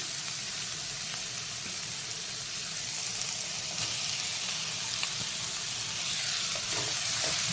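Onion, capsicum and cabbage fry in a pan with a steady, even sizzle and occasional stirring scrapes, close and continuous with no talking.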